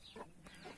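A rooster on a Turkish backyard poultry coop clucks in short, close bursts, a couple of throaty calls within under a second, loud against a faint yard background.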